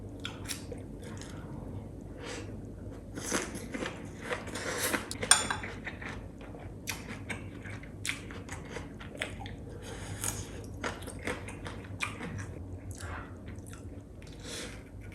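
Gochujang bulgogi wrapped with raw onion being chewed close up, with soft crunchy bites and wet mastication repeating steadily, plus occasional light clinks of cutlery on dishes and no talking.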